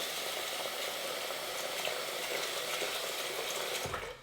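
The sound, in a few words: adding cold water to rice in a pot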